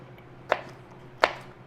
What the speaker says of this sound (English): when I'm cutting my okra up for the okra and tomatoes